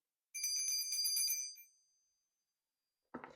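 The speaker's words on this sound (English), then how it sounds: "I'm going to ring the bell" A bright metallic bell rings in a quick trill for about a second, then fades out, followed by a brief low knock near the end.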